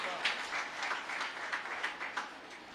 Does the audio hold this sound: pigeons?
no